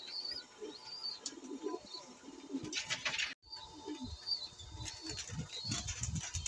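Pet pigeons cooing in a loft, with repeated soft coos and bursts of wing flapping at close range, a brief silent gap midway.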